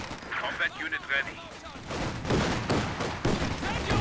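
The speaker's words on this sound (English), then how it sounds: "Officer dropping in some artillery" Artillery fire in the Company of Heroes 2 strategy game, a burst of heavy booming impacts with crackling gunfire, loud and dense after a quieter start, with someone talking over it.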